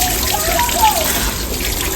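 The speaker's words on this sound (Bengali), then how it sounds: "এবার আমি মাছগুলো ভালো করে ধুয়ে নেব।" Tap water runs steadily over freshly cut bhola fish being washed in a kitchen, a continuous splashing trickle close by with no voices.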